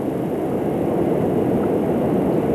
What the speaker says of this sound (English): Massive locomotives in a 13-car formation make a test run from the Honshu